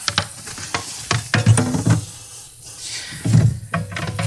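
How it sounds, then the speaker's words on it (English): Food sizzling and frying in a lightly oiled pan that is not too hot, a steady crackling hiss broken by clattering stirs and utensil knocks, close and fairly loud. "A little bit of oil in there, not too hot of a pan. A little bit of sizzle happening."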